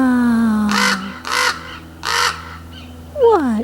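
Ravens give three loud, harsh caws in a steady rhythm, each a broad noisy burst, close by, with a higher squawk at the end over a held background tone.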